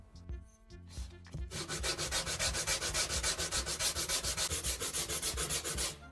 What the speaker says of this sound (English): sand the cut surface with sandpaper